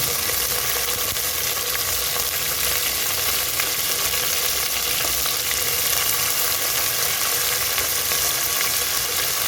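Onion, green chili and curry leaves frying in hot oil for Hogenakkal fish curry, a dense, loud and unbroken sizzle held close throughout, with no speech.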